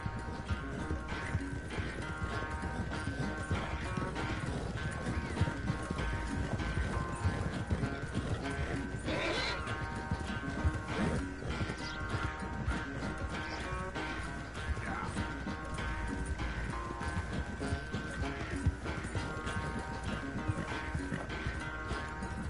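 Hooves clatter in a fast, steady galloping rhythm for a long stretch during a horse race in a PS4 video game, with occasional voices and a constant background hum.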